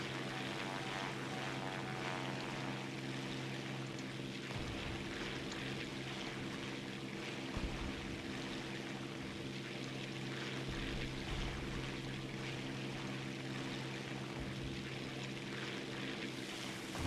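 An I-16 Type 18 propeller fighter drones steadily in War Thunder, a constant, even engine hum with a faint tonal buzz holding throughout at low level, no talk.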